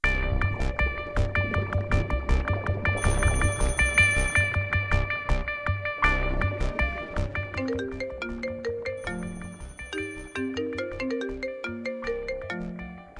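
A mobile phone ringtone plays clearly and alone, a repeating bright melodic pattern of chimes with bass pulses that continues steadily at moderate loudness and then changes to a busier run of notes partway through.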